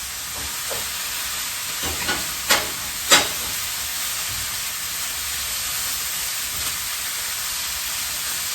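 Shrimp cook in a pan with a steady, even sizzle, broken by a few sharp pops and clicks, close and alone.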